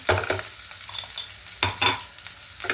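Onion frying with green chilli, garlic, coriander and ginger paste, a soft sizzle broken by three bursts of scraping as the mixture is stirred close by, with no speech.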